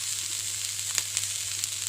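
Shrimp shells fry in oil in a pan for a shrimp-stock soup, giving a steady, close, bright sizzle with small crackles and pops, and no voices.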